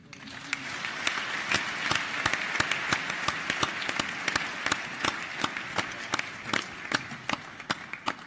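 An audience at the Youth Connekt Africa Summit 2017 gives a round of applause: dense, sustained clapping from many hands at a moderate distance, fairly even throughout.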